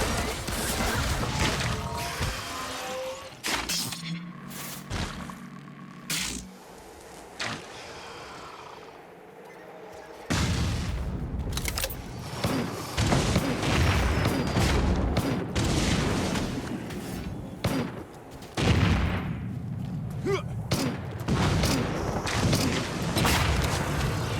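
A deployed turret fires in the video game Firefall, with repeated loud blasts, crashes and booms layered over a busy game soundscape, with a brief lull before the firing resumes.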